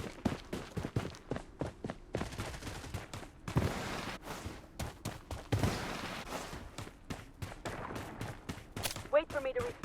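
Gunfire in the shooter game Blood Strike crackles in repeated sharp bursts and single shots throughout, mixed with footsteps and game effects, loud and close.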